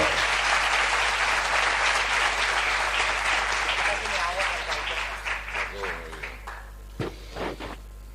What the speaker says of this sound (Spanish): El aplauso para recibirlo en nuestro escenario.